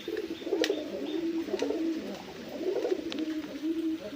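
Rajgolla pigeons coo in low, rolling repeated phrases, a steady murmur of several birds close by with a few brief higher chirps over it, no talking.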